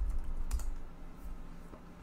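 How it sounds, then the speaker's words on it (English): A password is keyed in on a computer keyboard: a few soft, close keystrokes over a low room hum, with one sharper tap standing out. "I'm gonna type in my password."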